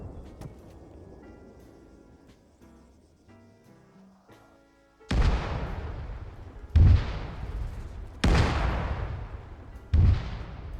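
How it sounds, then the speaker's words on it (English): Video game artillery and gunfire, heard first as faint distant rattling over a low tonal backdrop, then four loud heavy booms with long rumbling decays spaced about every two seconds, alone without talk. "you can hear guns going in the background"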